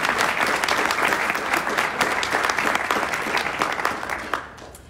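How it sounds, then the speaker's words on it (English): A dense, loud round of applause fills a city address hall for a group of volunteers, steady clapping from many hands that tapers slightly toward the end. "So give them a round of applause."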